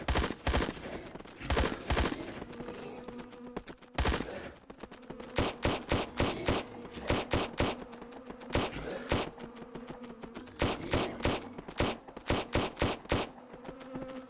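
Rapid bursts of gunfire from the shooter game Atomic Exile, loud and close, coming in repeated clusters of sharp shots with brief pauses between them and no talking over them.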